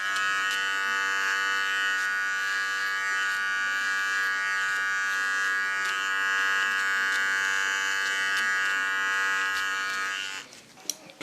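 Electric hair clipper trimming the sides of a pixie haircut, a close, steady high buzzing hum that holds continuously before switching off at the end.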